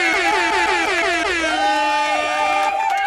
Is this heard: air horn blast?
yes